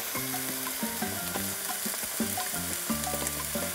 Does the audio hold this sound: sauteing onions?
yes